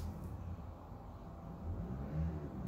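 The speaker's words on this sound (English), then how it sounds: "I hear a car." A car drives past outside a house, heard as a low, steady engine rumble that stays faint and distant throughout, with no voices.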